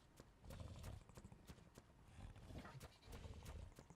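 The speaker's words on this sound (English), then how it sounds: "We have more horses, or as they are called, equuses here." Horse (equus) hooves clip-clopping in the game Ark: Survival Evolved, a steady run of close, sharp hoof thuds with a busy game ambience underneath.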